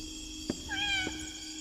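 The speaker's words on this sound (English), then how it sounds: "It's a kitty!" A cartoonish cat meows once, clear and rising, in the video game Indigo Park, set against a quiet background hum with a couple of soft clicks.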